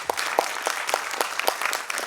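Audience at the CCRT Independence Day 2022 program claps warmly: a dense, steady round of applause with many overlapping hand claps, moderately loud and sustained throughout, with no speech.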